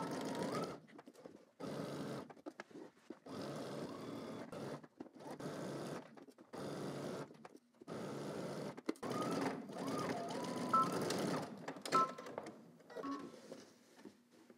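A domestic sewing machine runs in bursts, stitching a 5/8-inch seam from one end of a pair of shorts through the crotch and up the back; the motor whirs for several seconds at a time, with brief pauses between the runs.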